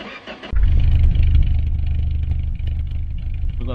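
A car engine cranks and catches in the car-building game My Garage, then settles into a loud, throbbing idle after a quiet start.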